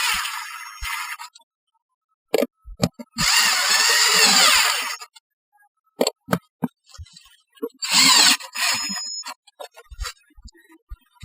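A power drill tightens fasteners on a data center roof installation, in several loud whirring bursts of varying length broken by clicks, taps and short pauses.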